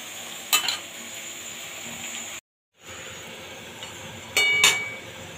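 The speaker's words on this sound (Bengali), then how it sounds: "এই পেঁয়াজটা এইদিকে ভাজা হতে থাক" Onions frying in a pan while mutton is being cooked, a steady close sizzle with a few sharper clinks of stirring, a brief silent gap midway, then louder crackling.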